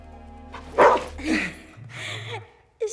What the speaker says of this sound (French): c'est le chien de Mikey